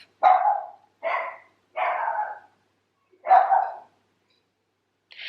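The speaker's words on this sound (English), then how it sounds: "Now she's setting the other dogs off." A dog barks in four separate bursts at a slow, uneven pace, fairly close and loud, with silence between each bark and a fifth starting at the end.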